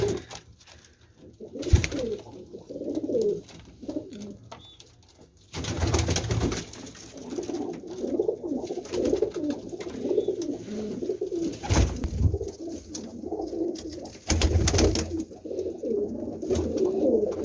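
Lakha pigeons coo repeatedly in close, low throaty rolls that rise and fall in phrases, with a few sharp bumps and wing-like rustles breaking in between.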